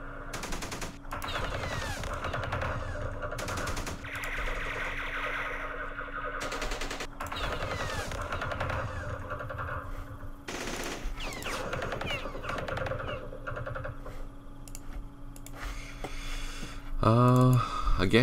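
Rapid automatic gunfire and bursts of shots ring out throughout a Vietnam War game battle, dense and continuous, with a voice talking over the shooting.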